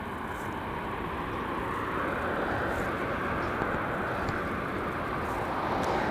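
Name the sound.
Japan Airlines jet landing at LAX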